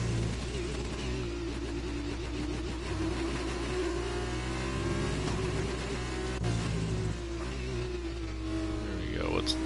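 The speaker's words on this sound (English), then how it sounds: "Really revving the crap out of his engine there." An F2 race car engine in a Bahrain online league race of an F1 video game revs hard and continuously, loud and close, with other cars droning around it and a commentator talking over the roar.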